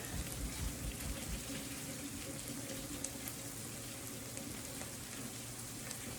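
Hot water from boiled potatoes drained through a slotted pot lid, a continuous rushing, hissing stream of liquid splashing into a sink, steady and close with no talk.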